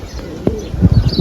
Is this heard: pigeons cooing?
yes